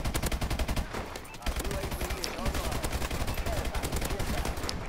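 Rapid automatic gunfire from a gun in Call of Duty: Advanced Warfare, sustained bursts of closely spaced shots with a brief gap near the start, loud and continuous.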